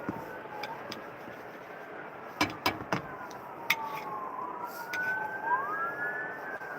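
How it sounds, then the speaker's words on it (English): Emergency vehicle sirens from police cars and ambulances wail in the distance on a road, faint rising and falling tones with a few sharp knocks nearby and no talking. "Got police cars, ambulances. I'm pretty sure it's going to be fire engines."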